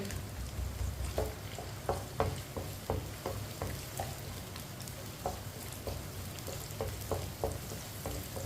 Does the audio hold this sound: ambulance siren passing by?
no